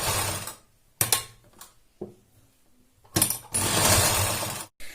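A sewing machine stitches bra straps together in several short bursts, a mechanical whirring rattle starting and stopping with brief pauses, the final run longest and loudest, close by.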